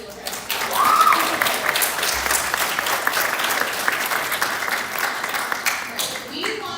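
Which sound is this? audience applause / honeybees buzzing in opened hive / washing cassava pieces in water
audience applause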